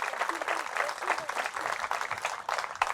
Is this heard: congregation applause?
yes